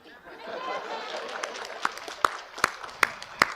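A graduation ceremony crowd murmurs, then a few slow, evenly spaced hand claps ring out over the noise.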